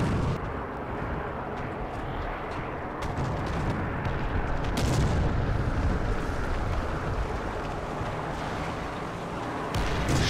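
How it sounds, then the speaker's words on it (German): Artillery firing in War Thunder on the Kuban map, with a Panzer IV Ausf. F2 nearby: steady rumbling explosions and booms under heavy battle noise, moderately loud, with a few sharper reports. "Oh, jetzt fliegt ja die Artillerie."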